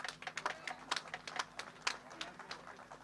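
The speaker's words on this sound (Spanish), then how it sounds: "Fuerte aplauso para la gente de Perú por acá." Scattered, light applause at a livestock auction of cattle and horses, irregular claps of a small crowd, moderately faint against a low background hum.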